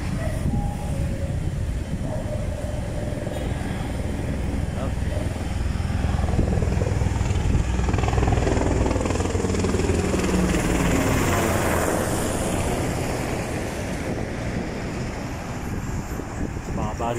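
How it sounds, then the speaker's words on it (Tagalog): A helicopter passes overhead above a busy Ortigas street near EDSA Shrine in Metro Manila, its loud, continuous rotor thrum swelling through the middle and blending with steady traffic noise. "Anong helicopter."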